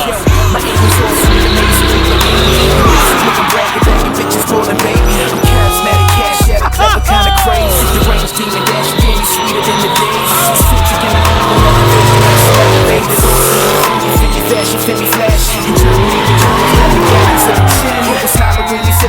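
LS-swapped Miatas and a stock Miata drifting, with loud sustained tire squeal and screeching over roaring V8 engines revving up and down, close and continuous throughout with some voices underneath.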